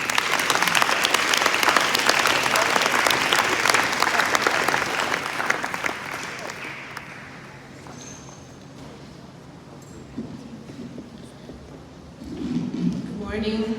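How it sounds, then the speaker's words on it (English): An audience at a Model UN opening ceremony applauds a guest speaker with dense, loud clapping for several seconds, which then thins out and fades into quiet room noise. "A round of applause for our distinguished guest speaker,"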